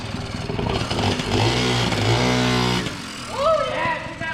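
A 1979 Yamaha QT50 moped engine, restored after 35 years abandoned and fitted with a replacement throttle cable, runs and revs steadily up close, holding a droning note before dropping off, with a voice speaking over it.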